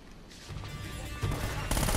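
An Uzi submachine gun fires in Uncharted: Drake's Fortune, a rapid burst of automatic gunfire that swells in loudness in stages with bursts of other shots, close and dense, with no talking.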